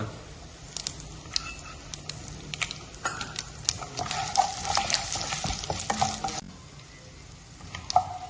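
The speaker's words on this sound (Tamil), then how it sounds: "இப்போ முந்திரி நல்லா வதங்கிருச்சு" Cashews fry in oil with a pinch of asafoetida for coconut rice, a close sizzle under scraping and clinking stirs that thicken midway and then taper off.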